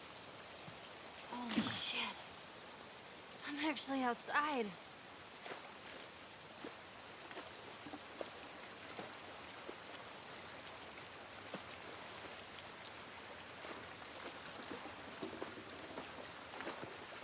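Rain patters softly in a video game outskirts setting, a faint constant wash beneath two short bursts of talking early on, then continuing alone.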